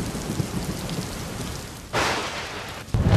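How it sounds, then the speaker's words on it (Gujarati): Heavy afternoon downpour hammering down in a dense, steady roar of rain, with a sudden louder surge just before the two-second mark and again at the end, a low rumble beneath and no voices. "બપોર બાદ ધોધમાર વરસાદ વરસતા પાણી પાણી થઈ ગયું"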